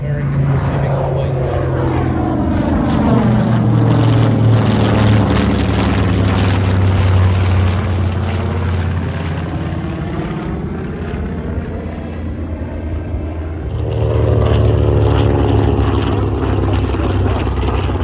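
An Avenger propeller aircraft flies at the Central Coast Airshow in Warnervale, its loud engine drone rising and falling in pitch as it passes, then swelling again toward the end.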